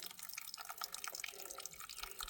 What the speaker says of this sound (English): filling up his water bottle directly from the source into the smart water bottle